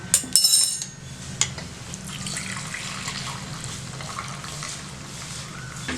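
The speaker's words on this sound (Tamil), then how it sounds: "இப்போ என்ன பண்ணுவோம், இந்த தண்ணியெல்லாம் இறுத்து வச்சிடலாம்." Water pours and splashes steadily as it is drained from cooked mutton through a strainer. A few sharp clinks come at the start, and the rush continues evenly throughout.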